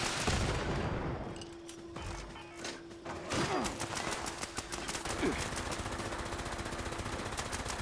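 Hostile mobs in Fallout 76 fire pistols during an event, a rapid rattling burst of shots that thins into steady repeated cracks over a low hum, with a voice briefly audible.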